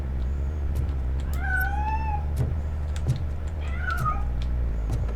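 A cat meows twice inside RoboCop: Rogue City, rising and falling calls standing clear of a steady low game-ambience hum, with a few faint clicks scattered between them.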